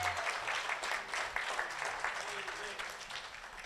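A church congregation claps during a sermon about baptisms, steady dense applause lasting a few seconds at moderate distance, faint and slightly muffled.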